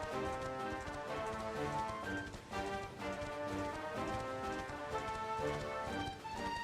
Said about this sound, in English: We got a horse that will run over any goddamn thing that gets in front of us.